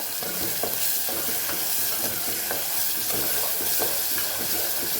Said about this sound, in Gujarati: સરસ મસાલો એકદમ સાતડી લેવાનો છે